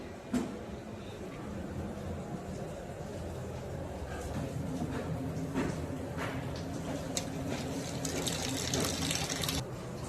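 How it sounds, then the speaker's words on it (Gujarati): Water poured onto potted plants at a village home: a continuous splashing, trickling wash over a steady background rumble, with faint movement noises and no clear speech. "ચલો આપણે પૌધાને પાણી નાખી દઈએ."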